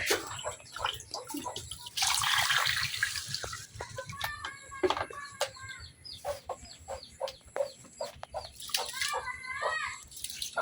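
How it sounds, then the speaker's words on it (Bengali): Rice and lentils being washed together in a pot of water in a village kitchen, with splashing, swishing and pouring sounds up close, while a rooster clucks and crows nearby. "পানি পাল্টায় চাল আর ডাল অনেকবার ধুয়ে নিচ্ছি আমি"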